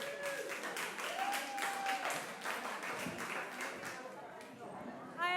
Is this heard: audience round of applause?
yes